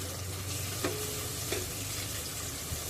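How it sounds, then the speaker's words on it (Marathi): Half an onion and a few curry leaves sauté in hot oil for a prawn curry, giving a dense, even sizzle with a couple of light utensil taps as they are stirred. "कांदा गुलाबी रंगावर येईल इतका परतायचा आहे"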